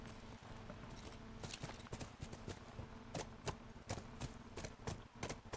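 Steady, rhythmic clip-clop of horse hooves trotting in The Last of Us Remastered, fairly close and continuous, with faint ambient noise underneath.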